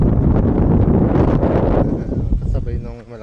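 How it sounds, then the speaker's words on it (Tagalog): Strong wind over farmland in Northern Ireland buffeting the microphone in a loud, rough roar, with a voice speaking over it near the end. "Kasabay nung malakas na hangin."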